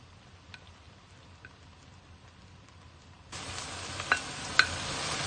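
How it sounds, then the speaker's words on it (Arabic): Onions sautéing in a pan, a quiet hiss at first that turns into a steadier, louder sizzle partway through, with a few small pops and crackles near the end. "راح نبلش نذبل البصل"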